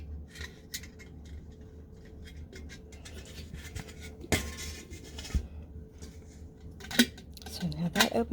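Metal lid of a portable charcoal grill clanking as it is lifted open and set back down, a few sharp scrapes and taps against quieter handling noises.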